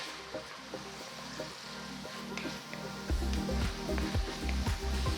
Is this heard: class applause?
no